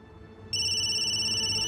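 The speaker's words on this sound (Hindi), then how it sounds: "किसका फोन है?" A mobile phone ringtone in a Hindi TV comedy scene cuts in abruptly after a short pause, a loud, steady electronic tone that holds to the end over a low background murmur.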